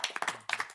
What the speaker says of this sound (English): First time I remember clapping after somebody's presentation